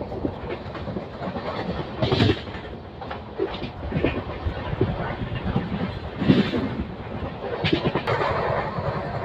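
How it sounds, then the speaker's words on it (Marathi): A freight train led by a WAG9 electric locomotive runs past at Patas station, sending out loud, close rumbling with clickety-clack bursts and rattling swells every couple of seconds. "पाटस रेल्वे स्टेशनवरती आता गाडी फ्रेट ट्रेनला ओव्हरटेक करत आहे"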